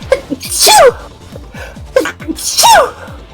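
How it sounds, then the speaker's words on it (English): Two small, high-pitched sneezes, each with a quick sharp intake before it, burst out close to the microphone during a livestream, over a faint game soundtrack. "you have such cute little sneezes"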